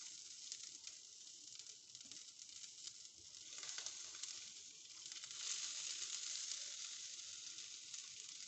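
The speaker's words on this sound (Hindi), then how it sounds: "और इस घी में जो है ना इसको फ्राई करते जाएंगे हम।" Chicken malai boti kebabs fry in hot ghee in a pan, giving a steady close sizzle with fine crackling that swells slightly partway through, with no voices.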